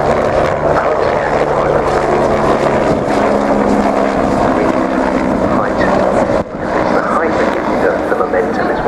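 A propeller aircraft climbing at the RAF Cosford air show, a loud steady engine drone with wind buffeting the microphone, while someone comments over it.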